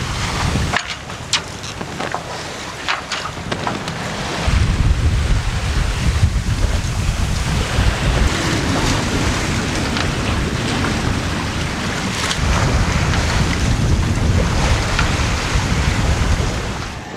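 A sailboat under sail crosses the Gulf of Mexico at around six knots, with steady wind buffeting and the broad wash of waves and surf against the hull running throughout, growing louder and rougher partway through.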